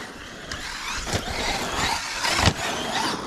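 A boosted Traxxas X-Maxx RC car drives and slides outdoors, its electric motor whining and rising in pitch as the tires scrub and hiss across the ground in short, loud bursts.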